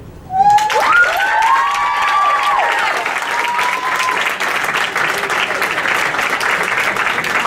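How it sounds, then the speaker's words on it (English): Enthusiastic audience applause with some cheers after a spoken word performance, bursting in loudly and holding steady with a voice speaking over it early on. "Give her another round of applause"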